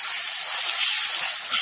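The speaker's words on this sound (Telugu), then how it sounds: "ఇదిగో చూడండి తాలింపు పెట్టాను" Tempering sizzling in hot oil for gongura chutney, a loud, steady, close-up hiss and crackle throughout.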